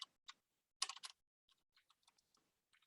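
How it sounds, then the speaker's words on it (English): Quiet typing on a computer keyboard: a few isolated key taps, then a quick burst of louder clacks, trailing off into scattered soft keystrokes in a silent room. "My typing is so awful."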